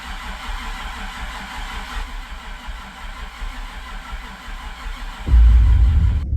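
A 6.0 LS V8 on a budget rebuild cranks over on its first start attempt, a steady low churning starter grind that swells into a louder, rougher surge near the end, with no talking.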